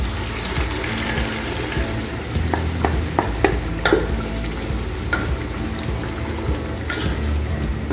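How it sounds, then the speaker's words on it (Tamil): Onion and tomato paste are stirred and sautéed in a pan for spicy peanut chicken, giving a steady wet sizzle with several sharp spoon taps and scrapes against the pan. "இந்த லிக்விடை நல்லா பேஸ்ட்டாக நல்லா வதக்கிடுங்க"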